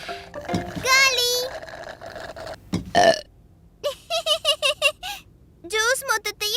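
Cartoon burps from a character who has gulped down all the juice: several loud, squeaky belches in quick succession, with a voice talking before them.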